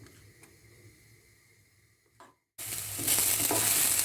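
Vegetables browning in a frying pan: quiet kitchen room tone at first, then a sudden loud, steady, close sizzle of frying that fills the rest of the moment.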